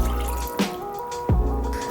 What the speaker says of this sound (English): I'm just going to cover the pasta in water.